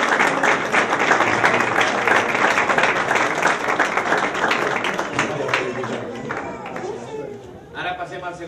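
A crowd at a local festival prize-giving breaks into sustained applause, dense clapping mixed with chatter that holds steady and then thins out toward the end.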